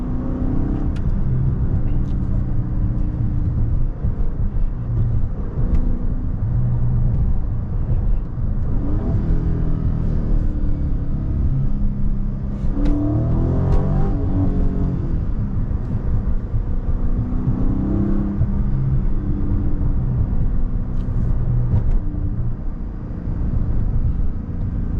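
Dodge Charger Scat Pack widebody engine droning loud and steady as it accelerates, tires losing traction and sliding, with a brief rise in revs midway and no talk over it.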